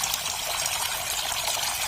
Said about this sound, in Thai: ตอนนี้ผมก็ เปิดน้ำนะครับ ให้หอยเชอรี่นะครับก็ตอนนี้จะเป็นระบบน้ำหยดนะครับ